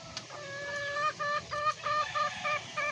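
A hen, one of several backyard chickens, clucks in a quick series of short bursts near at hand over faint background noise.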